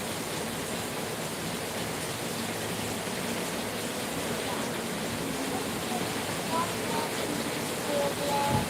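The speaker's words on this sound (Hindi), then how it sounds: "बहुत बारिश हो रही है भाई," Heavy rain pouring steadily, a dense, even hiss of water falling on surfaces that stays loud and unbroken from start to finish.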